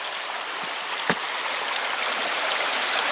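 Water runs steadily from the overflow of an off-grid solar-powered submersible well pump, a continuous close trickling splash with one brief louder gurgle, no voices.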